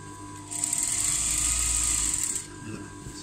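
Sewing machine stitching a plain blouse in a short steady burst of about two seconds, close and loud, with quieter handling before and after.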